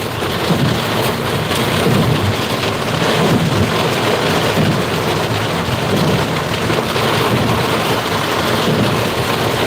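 Heavy rain pours in a dense, steady roar without letup, a loud broadband wash with faint low rumbling beneath it and no talking.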